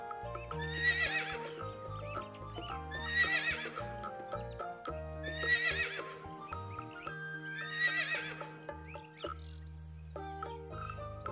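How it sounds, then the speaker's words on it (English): Four horse whinnies repeat at a steady rhythm over a bright, bouncy musical backing, with light clip-clopping hooves. "H for horse."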